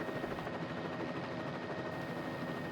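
A Bell 206L3 helicopter in Microsoft Flight Simulator 2020 drones with a steady turbine whine and rotor hum, constant and fairly quiet with no talk over it.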